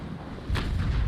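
Carronade cannon fire in the Naval Action naval combat video game: a single deep, booming shot lands midway, with low rumbling tail over a quiet background.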